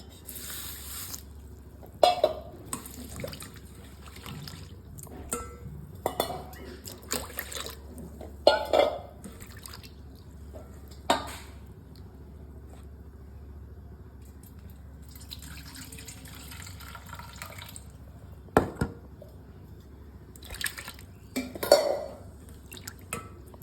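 Rice and mung dal washed in water make soft splashing, swishing and dripping sounds with occasional clinks of a pot, quiet and intermittent with pauses between.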